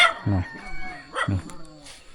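A village rooster crows twice in a rural Thai hill village where ducks and chickens are raised, with two loud, close crows about a second apart and quieter background sounds in between.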